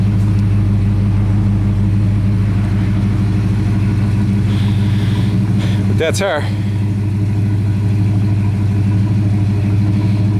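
A 1967 Plymouth Satellite convertible's engine runs steadily after a cold start, a loud, constant low rumble that continues throughout while someone talks close by.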